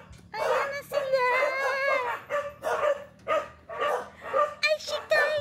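Several pet dogs barking and yipping in bursts with whimpers between, close and loud, as a household greets its owner returning home after a year away.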